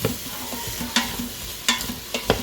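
Onions sauté in melted butter with a constant crackling sizzle, punctuated by several sharp scraping strokes of a utensil stirring the pan, close and fairly loud, with no speech.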